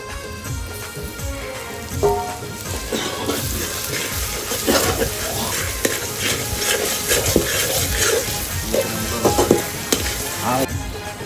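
Garlic, ginger and green chili frying and being stirred in a pan for a village-style Agri mutton curry cooked on a wood-fired stove, a loud continuous sizzle with scraping stir strokes and a voice talking faintly underneath.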